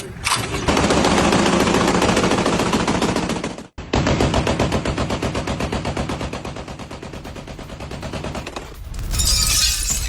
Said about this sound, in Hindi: ये देखिए तस्वीरें, कैसे गोलीबारी हो रही है।